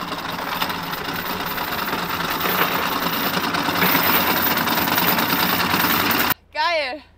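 Sailing boat's engine motoring through the Strait of Messina, a steady, loud droning hum that runs unbroken before a voice briefly speaks at the very end.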